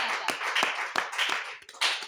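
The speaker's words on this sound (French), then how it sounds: "Il faut applaudir le Seigneur pour ce cours" Scattered clapping from a church congregation, a few distinct sharp claps over a broad hissy wash of hands, moderately loud and close, with no talking.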